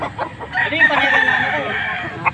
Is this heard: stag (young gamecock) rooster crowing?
yes